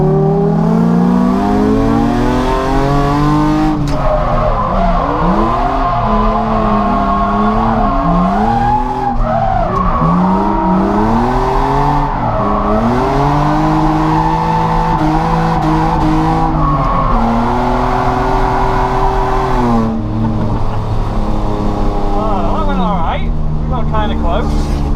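A drift car at Three Sisters Circuit under full throttle, its engine howling and shifting pitch through long revving sweeps while the tyres squeal. The front wheels lock under braking. The sound is loud and continuous.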